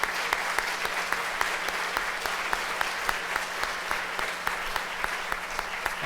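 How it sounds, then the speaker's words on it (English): An audience at a 2019 North Vancouver Island political debate applauds the candidates, a steady, fairly quiet round of clapping from a modest crowd with a low hum underneath and a few sharper individual claps standing out. "So big round of applause."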